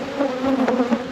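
Bees buzz close and steady in a dense, droning swarm, rising and falling slightly, while a deep hive is opened for its first inspection after winter.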